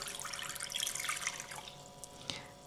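Warm water, about 36-38°C, pours steadily into a bowl close by, a bright splashing stream that softens toward the end, with a small clink.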